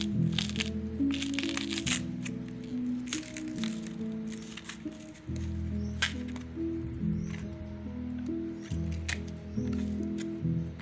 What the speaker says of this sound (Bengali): ভিতর থেকে খোলাগুলো ছাড়িয়ে ভিতরের যে অংশটা আছে সেটা বের করে নেব।